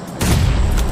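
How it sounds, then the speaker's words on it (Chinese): A grenade blast in a battle royale shooter game, a sudden loud low boom that holds on as a dense, rumbling roar through the rest of the brief moment, with no talk over it. "一颗手雷"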